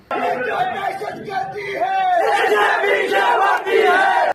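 At the Asma Jahangir Conference, a crowd loudly chants political slogans in unison against the army, rising and falling in rhythmic shouted waves close by.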